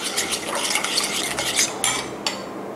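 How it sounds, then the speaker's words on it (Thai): Seasoning sauces, oyster sauce and light soy sauce, stirred together in a bowl for Thai pork toast, a steady close scraping and clinking of a utensil against the dish with a few sharper knocks. "จากนี้นะคะเราก็ผสมเครื่องนะคะให้เข้ากัน"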